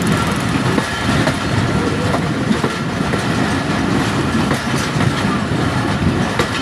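A Pakistani passenger train between Jhelum and Karachi runs at about 60 to 65 speed, heard from inside a crowded coach as a loud, steady rumble with rhythmic clickety-clack of wheels on rail joints.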